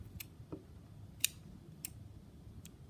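Scissors snip through a knotted keychain cord with a few sharp, quiet clicks spaced apart in an otherwise hushed room.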